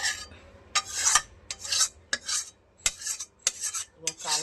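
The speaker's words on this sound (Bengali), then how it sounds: "মা কড়াই থেকে বাটিতে ঢেলে নিল আস্তে আস্তে" Egg curry (dim kosha) slowly poured and scraped from a wok into a bowl, a series of close, bright metallic scrapes and rasps in uneven bursts, each short, with no voices.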